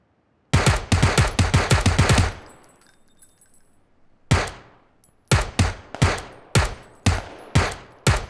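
Bursts of rapid gunfire from a video game shooter, close and loud: a fast volley, a short gap with a ringing tail, a single shot, then a slower string of evenly spaced shots, with no talking.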